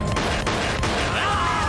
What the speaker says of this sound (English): That's kind of a cool firework, though.